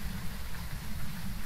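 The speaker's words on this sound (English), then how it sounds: "Oh, I hate that it's raining." Steady, even rain in the horror video game Phasmophobia, a continuous close hiss with no breaks and no voices over it.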